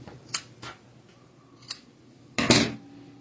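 Scissors snip through excess knitting yarn: a few quick, close, crisp snips, then one longer louder cut near the end, in a quiet room.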